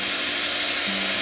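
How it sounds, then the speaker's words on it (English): A power drill bores holes into a clamped metal frame for an outdoor griddle, a steady close whine held throughout before cutting off abruptly. "Now I'm going to drill the holes to tap the frame, and I've clamped it."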